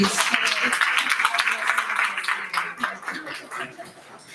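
An audience at a political forum applauds a woman with a quick round of clapping, dense at first and then thinning into scattered claps as it fades.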